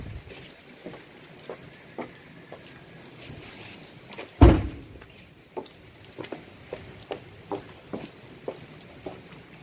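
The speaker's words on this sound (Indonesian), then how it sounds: "Kita tutup dulu pintu mobilnya." A car door is shut once with a single loud thud midway, surrounded by light scattered taps and rustling, with no talk.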